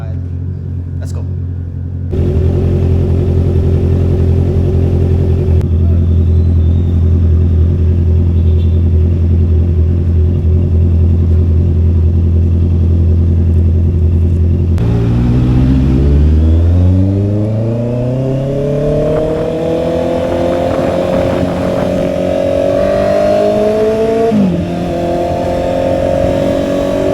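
A Honda CB650R motorcycle engine idles steadily while warming up, then revs up with rising pitch and settles into a higher drone, loud and close.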